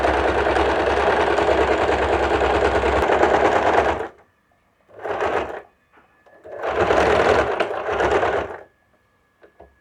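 An electric sewing machine stitches a kurti, running loud and steady for about four seconds, stopping, giving a short burst, then running again in two longer stretches with a brief break between them.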